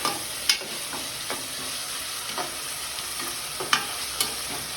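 Chicken biryani masala with chopped tomatoes frying in a pan: a continuous close sizzle, broken by a few sharp clinks and scrapes as a spoon stirs, with no talking.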